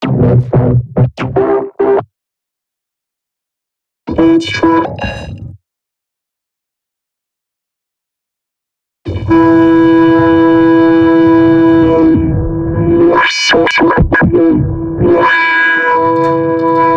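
Robot-like vocoded voice from the Ableton Live Vocoder: loud, buzzing harmonic phrases in short bursts near the start, then a long sustained, wavering robotic tone with sweeping pitch toward the end.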